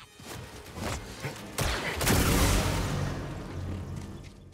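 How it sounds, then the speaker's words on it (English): Droid blaster fire in Star Wars Jedi Survivor, a volley of loud zapping shots with a whooshing burst and rumbling impacts that fade off, with no talk. "Buddy, you're shooting out the floor there"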